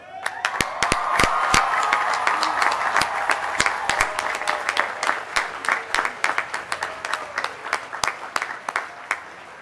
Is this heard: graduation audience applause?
yes